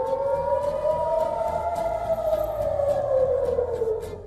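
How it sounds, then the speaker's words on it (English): A loud, wailing air raid siren in central Israel sounds continuously, its tone slowly falling, with faint background noise and no voices. "Sirens blared."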